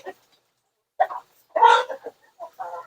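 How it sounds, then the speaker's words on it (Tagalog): Roosters in a chicken house, sharp squawking and clucking bursts in short irregular spurts with quiet gaps, close and fairly loud. "So ngayon, nagsabong na sila."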